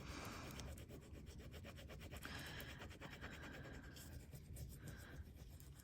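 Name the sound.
burnishing metal tape by rubbing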